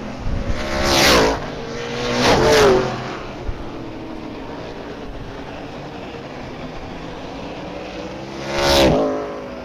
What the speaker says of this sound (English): These guys are racing hard. Little races taking place all over the racetrack.